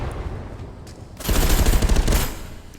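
Gunfire in the VR shooter game ContractorsVR during a headshot, a quiet stretch with faint taps followed by a loud burst of rapid shots lasting about a second before fading.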